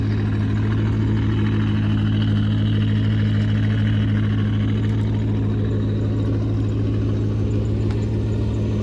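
A car idles at a Corvette car show, a loud, steady low engine rumble that holds even and close for the whole stretch, with no talk over it.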